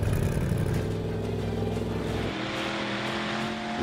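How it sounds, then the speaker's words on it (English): Powerful Mad Max: Fury Road car engines roar loudly at close range, the deep revving drone dropping off abruptly near the end before settling into a lower idle. "The sound of these engines. Whew. It's like an aircraft kicking into life."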